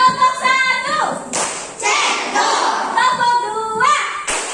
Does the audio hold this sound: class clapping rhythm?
yes